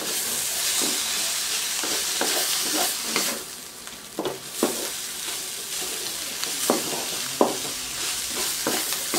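Lechon sisig with fresh calamansi juice is stirred in a sizzling pan: a continuous loud fry hiss broken by repeated sharp spatula scrapes and clacks in an uneven rhythm.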